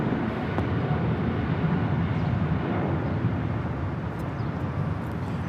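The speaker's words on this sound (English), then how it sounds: "Austrian Airlines Flight 82 taking off to Vienna on the 777-200ER" An Austrian Airlines Boeing 777-200ER takes off at LAX, heard as a steady, dense, broad jet roar at moderate distance that holds evenly throughout.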